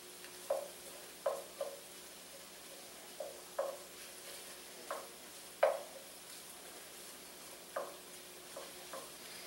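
Onion slices cooking in a pan over good heat, a soft sizzle in the background broken by a series of sharp taps and scrapes from a utensil at irregular intervals, fairly quiet overall with no speech.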